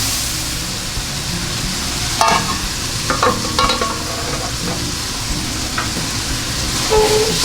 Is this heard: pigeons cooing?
no